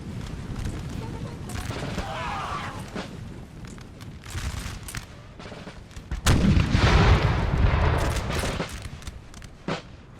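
Artillery booms as cannons fire canister shot into a Prussian infantry line in the Napoleonic Total War 3 battle, with scattered heavy blasts and a loud rumbling volley midway under a talking voice.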